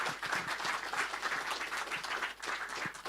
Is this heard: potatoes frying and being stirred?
no